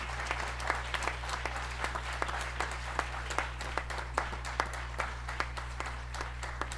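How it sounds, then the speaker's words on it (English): Audience applause at a fraternity chapter gathering, steady even clapping from a moderately distant crowd over a constant low electrical hum. "let's give Brother Snyder a round of applause on behalf of your chapter and the Council of Presidents"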